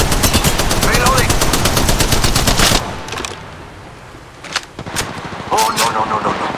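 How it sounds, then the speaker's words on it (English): Gunfire in a shooter video game: a long loud sustained automatic burst, then a quieter gap broken by a few single shots and short bursts, with a voice talking over it. "Shots fired and they're hitting me."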